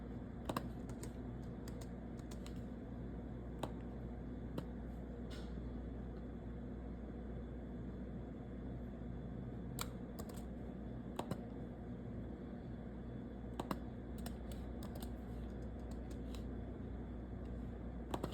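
Computer keyboard typing in scattered bursts of sharp key clicks spread over a long stretch, fairly faint against a steady low room hum.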